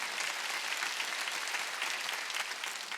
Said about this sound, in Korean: 박수를 쳐야 된다